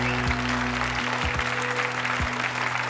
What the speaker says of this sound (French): Ludivine et Rabia, on applaudit dans le chat